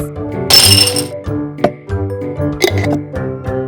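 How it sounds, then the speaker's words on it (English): A brief rush of rice grains pours into a glass with a few light clinks, close up over a quiet background. "Take the rice from the kitchen cupboard and pour it into a glass."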